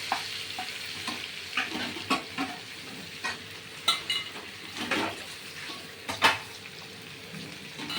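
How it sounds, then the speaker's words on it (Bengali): Pumpkin vine greens stir-fried in a pan for a vegetarian dish, giving a low steady sizzle broken by irregular scraping and clinking strokes of a spatula against the pan, close by and with no talking. "এখন আমি এই শাকগুলো দিয়ে দিচ্ছি হ্যাঁ শাকগুলো দিয়ে ভাজা ভাজা করব"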